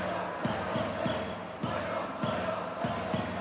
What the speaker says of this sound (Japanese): ひときわ大きな声援が聞こえます